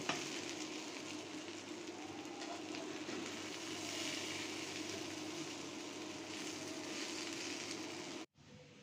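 Potatoes fry in mustard oil, a steady soft sizzle and crackle holding at an even level for several seconds before cutting off abruptly near the end.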